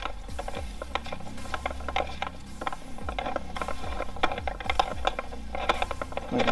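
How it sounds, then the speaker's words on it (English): Metal bearing cone being unthreaded by hand from the axle of a GT Fan Mag BMX wheel hub, giving close, irregular ratcheting clicks and small gritty metal scrapes in quick bursts, with no talking. "So I'm going to remove, unthread the cone just from one side."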